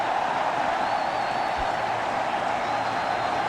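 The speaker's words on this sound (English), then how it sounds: "Crowd are going berserk. They're loving this." A cricket stadium crowd at a Bangladesh versus New Zealand one-day international roars and applauds in a dense, steady wash of cheering that holds at an even level throughout.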